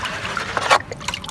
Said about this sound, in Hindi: छोटी सी डब्बी ले रहे हैं पानी निकाल